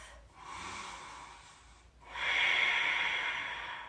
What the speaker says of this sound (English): Let's just take 2 more big rounds of breath.